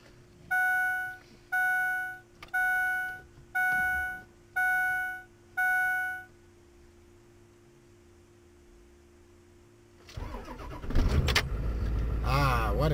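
Six evenly spaced electronic beeps sound from a pickup truck, followed by a quiet pause. Then its engine turns over and runs with a loud, rough, close rumble.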